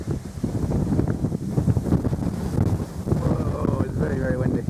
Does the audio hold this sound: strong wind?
yes